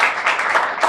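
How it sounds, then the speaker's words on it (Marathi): Applause from an audience at the opening of a film school, a short dense burst of clapping lasting under a second, fairly loud and close. "आपण सगळे सचिनसाठी एकदा टाळ्या वाजवूया"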